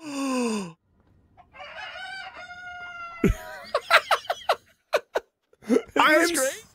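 Cuccos, the chickens of a Zelda video game, cluck and crow in a rapid series of loud squawks after a short burst of speech.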